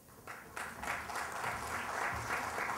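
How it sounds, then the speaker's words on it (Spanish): Applause from the audience at a Mexico City event for International Personal Data Protection Day, honoring a Federal District Judicature Council member; a steady, moderately loud wash of clapping that swells after a quieter start. "para quien también les pido un fuerte aplauso"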